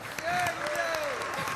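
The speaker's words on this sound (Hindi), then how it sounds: "एक बार इनके लिए ताली बजाओ।" A crowd at a Bageshwar Dham religious gathering claps briefly, a short, fairly loud burst of applause with a voice speaking over it.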